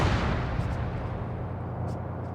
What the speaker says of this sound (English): The BMP is going to fire on the trench at this distance.